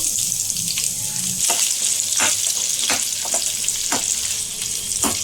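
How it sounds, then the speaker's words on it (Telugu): Cashews and thinly sliced onion sizzle and crackle in hot oil in a pan, a steady frying hiss broken by occasional sharp stirring clicks and scrapes, close and without talk. "ఇప్పుడు దీన్ని అయితే ఒక 2 మినిట్స్ అయితే ఫ్రై చేసుకుందాం."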